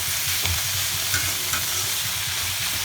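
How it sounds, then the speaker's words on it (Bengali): Betho saag greens are stirred in a hot pan, a continuous close sizzling hiss with soft rhythmic scraping and turning sounds underneath. "এইভাবে কয়েক মিনিট নাড়াচাড়া করলে"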